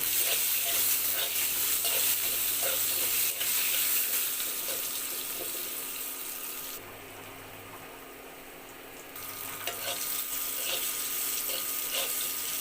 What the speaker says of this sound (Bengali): বেগুনটা দিয়ে দিচ্ছি হলুদের গুঁড়ো দিচ্ছি লবণ এবার বেগুনটা ভেজে নেব